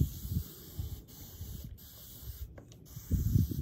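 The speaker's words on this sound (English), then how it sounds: "give that a good spray." Bleach spray bottle misting a stenciled t-shirt, several short airy hissing bursts, close and fairly quiet, ending with a stronger burst.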